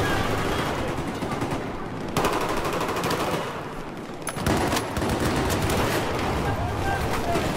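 Sustained automatic gunfire in a Battlefield 4 multiplayer match, dense, loud and continuous bursts with battlefield noise throughout, briefly dipping then resuming.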